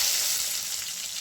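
Tomato pieces drop into hot white oil with melting sugar, setting off a loud, steady broadband sizzle of frying that holds evenly throughout with no voices.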